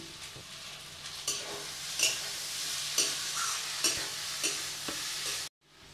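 Fried okra is stirred into a mustard spice paste with a little sugar in a sizzling pan, with repeated scraping strokes over a steady fry. The stirring cuts off abruptly at the end.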